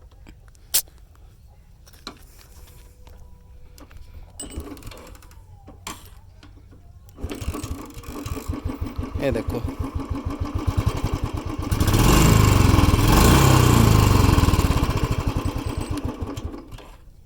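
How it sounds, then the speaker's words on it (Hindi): A Royal Enfield Classic 350 Bullet motorcycle with a modified legal exhaust idles quietly under brief speech, then revs to a loud, close, steady engine roar before settling back down. "बात करें एग्जॉस्ट की, जो मैंने स्टार्टिंग में बता दिया था, एक बार इसकी साउंड सुन लो"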